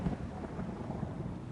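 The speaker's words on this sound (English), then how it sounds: "Thunder." Thunder rolls in the game Final Fantasy XIV: Heavensward, a deep, steady rumble with a rain-like hiss over it, loud and continuous, with no voices.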